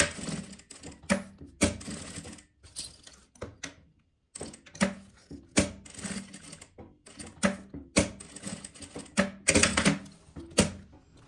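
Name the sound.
sewing machine stitching fabric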